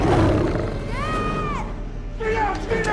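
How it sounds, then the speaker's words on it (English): A lion roars on the savanna, rising and holding then falling, with a second roaring call toward the end, loud and close over a rumbling noisy background. "The lion then appeared and approached Mir and Nora"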